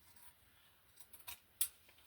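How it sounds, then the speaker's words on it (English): Fabric scissors snip through magazine paper, producing a few faint, crisp cutting sounds with a sharper snip near the end, in a quiet room. "I want to use my regular scissors, regular fabric scissors."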